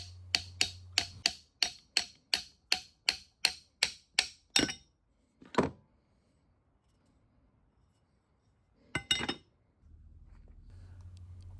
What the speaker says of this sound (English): So I'm just using this little brass hammer to